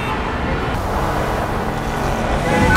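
Rush-hour road traffic in Las Vegas, a steady broadband rumble of cars and larger vehicles on a busy city street, continuous and fairly close, swelling slightly louder at the end.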